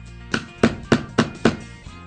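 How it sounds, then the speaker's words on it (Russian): Hammer strikes a chisel to chip away plaster and free stones from a dig kit, five sharp close knocks in a quick, even rhythm, with nothing else heard. "Орудуя молотком и зубилом, начинайте работу, постепенно откалывая гипс."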